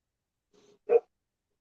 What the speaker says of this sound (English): Sorry, my dogs are talking so much.